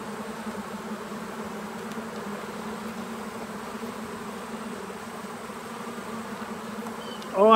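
Honey bees droning steadily inside an opened farm hive, a constant close buzz with a louder burst of wingbeats right at the end.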